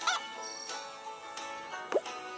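Cartoon chicken clucks and honks in the Hay Day farming game, a few short bursts spaced across a couple of seconds, fairly faint over a soft background.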